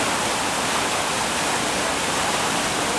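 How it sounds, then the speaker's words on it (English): A city waterfall in Athens roars as a loud, steady, broadband rush of falling water, constant and close with no variation or talk. "Just found this fantastic waterfall."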